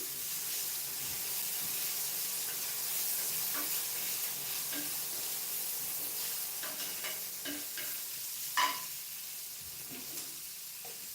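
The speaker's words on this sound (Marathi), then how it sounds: "कांदा भाजताना तर थोडीशी कोथिंबीर टाकलेली" Onion frying in a pan with a little coriander added, a steady soft sizzle and hiss with occasional stirring scrapes and light clinks, close and continuous, with no talking.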